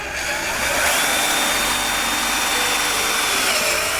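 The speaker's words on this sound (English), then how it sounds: "This will attach with 4 stainless steel self-tapping screws, 2 on the side of the post," Power drill whirring steadily while driving stainless steel self-tapping screws into an aluminum railing gate post, a loud continuous high-pitched motor whine with no pauses.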